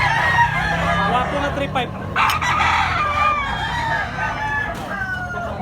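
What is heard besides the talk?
yellow-legged bulik stag rooster crowing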